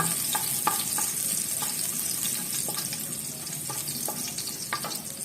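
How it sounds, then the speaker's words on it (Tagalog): Garlic sautéing in hot oil, a steady close sizzle with light spatula scrapes and stirring taps at irregular intervals, no voices. "Tapos pag mainit na, maglalagay naman tayo ng bawang. Yan, gisa-gisa lang."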